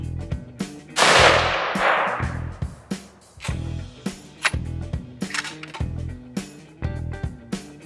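Weatherby VAC rifle chambered in 6.5mm Creedmoor fired once outdoors, a loud close blast with a long decaying roar, followed by a series of sharp clicks and knocks.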